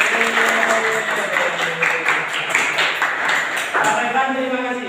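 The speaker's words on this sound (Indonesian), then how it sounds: "tepuk tangan semua" Audience claps at a religious lecture, a moderately loud scatter of hand claps running throughout, mixed with a voice speaking and talking over it.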